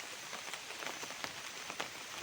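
Rain falls steadily onto surfaces, a soft continuous hiss dotted with sharper drop impacts, fairly quiet and with no voices.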